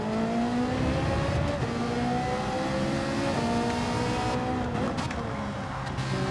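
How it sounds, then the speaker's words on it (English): Race car engines rev and roar continuously in Gran Turismo 7 during an online lobby race on sports tyres, with harmonic engine tones climbing and falling as the cars accelerate and shift, steady and loud throughout with no talking. "I tell you what, these cars do sound good."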